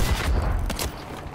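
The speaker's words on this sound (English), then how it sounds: "Oh no, I'm getting shot in the back!" Rapid incoming gunfire in the World War II shooter Battlefield V, a dense rattling fusillade with sharp cracks peaking partway through, loud and close throughout the short moment.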